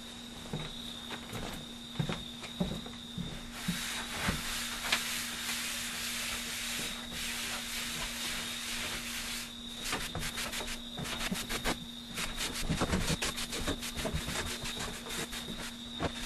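Compressed-air hose blowing dust off a MAME arcade cabinet before laminate goes on, a steady close hiss with rubbing and scraping textures and a constant mechanical hum underneath for the whole stretch.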